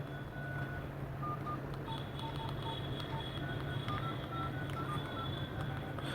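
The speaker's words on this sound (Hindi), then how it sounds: "देखो मैं कोई कीपैड का स्विच प्रेस करता हूँ तो उसका वॉइस आ रहा है।" Repeated short electronic key-press beeps from a Nokia keypad mobile phone that powers on but has a faulty, blank display, sounding one after another at an irregular pace over a steady low hum.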